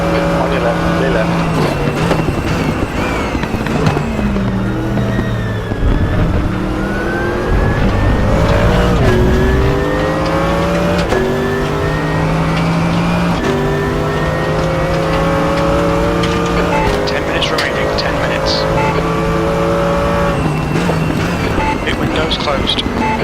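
A Mercedes-AMG GT3 race car engine in the RaceRoom racing game roars loudly and continuously, rising and falling through gear changes and revs, with other cars nearby in a GT3 and GT4 multiclass race.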